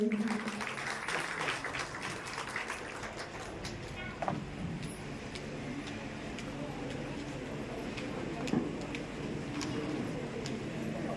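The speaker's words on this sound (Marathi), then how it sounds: "सत्कारासाठी आपण जोरदार टाळ्या वाजवूयात मंडळी." An audience at a felicitation event in Chinchwad, Pune, claps in a dense, continuous patter of applause that is strongest at first, then fades into a steady, softer crowd murmur.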